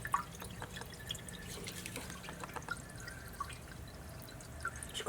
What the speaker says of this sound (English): So this is my Kerdi pan, and I got a drip going in each corner.